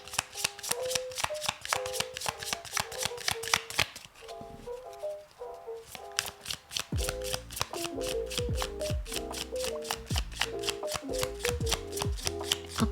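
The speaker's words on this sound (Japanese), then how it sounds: "まずタロットカードで1枚出していくのと、あとオラクルカードも出していきます。" Tarot and oracle cards being shuffled by hand, rapid riffling and slapping bursts that pause briefly midway, then resume in a dense, close, crisp flurry with no talk.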